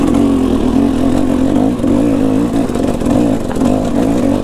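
A KTM 300 two-stroke dirt bike engine lugs slowly in second gear, a loud, close, low throbbing drone with a steady pulsing rhythm and slight rises and dips in throttle.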